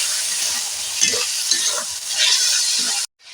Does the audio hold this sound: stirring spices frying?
yes